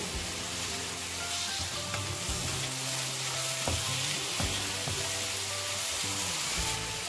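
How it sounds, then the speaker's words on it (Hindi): Mashed eggplant being stirred into frying spice masala for baingan bharta, a continuous loud sizzle broken by repeated spoon scrapes and knocks against the pan, no talking. "बैंगन जो हमने मैश किए थे, बैंगन डालेंगे इसके अंदर और इसे अच्छी तरह से हिलाएंगे"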